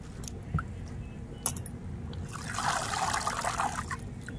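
Chila, a wild leafy green, is rinsed in water: a few light knocks at first, then a rising, continuous splashing and trickling as the leaves are swished about, close and moderately loud.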